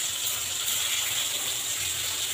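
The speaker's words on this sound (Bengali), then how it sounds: "এখন কুমড়োটা ভাজছি।" Pumpkin slices fry in hot oil in a home kitchen, giving a steady, close, hissing sizzle that holds evenly throughout without any talking.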